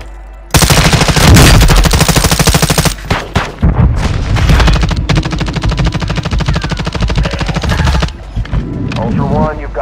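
Loud, sustained machine gun fire in Call of Duty: Modern Warfare II, with rapid automatic bursts broken by brief pauses and heavy booming impacts, while a radio voice briefly speaks near the end.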